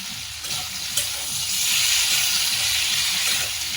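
Onion, garlic and ginger paste going into a pan of lightly fried potatoes, a steady close sizzle and hiss that grows a little louder and fuller as the paste hits the hot oil.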